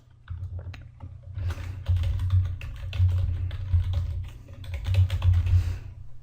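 An email address is typed on a computer keyboard during website registration. Quick bursts of light key clicks come close and clear over a low steady hum, pausing briefly between runs of keystrokes.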